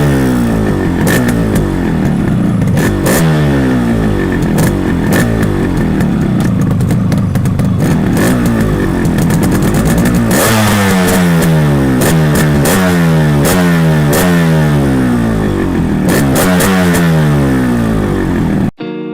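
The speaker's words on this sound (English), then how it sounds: "Y'all all want to hear how a parallel twin 200 sounds." A customised Yamaha RX 100 fitted with a parallel twin 200 engine revs hard and loud, the pitch rising and falling in repeated throttle blips over a steady close idle, with no talk.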